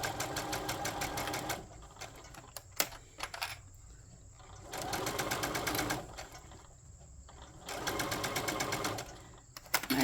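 A sewing machine stitches a bag seam in three bursts of rapid, steady whirring separated by quieter pauses, with soft clicks and handling noises between runs; close and moderately quiet.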